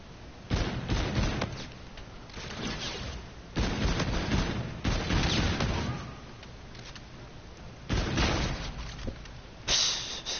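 Sniper rifle shots in a Call of Duty match: several sharp, fairly faint cracks spaced unevenly across the stretch, each with a brief rolling tail and low background noise between them.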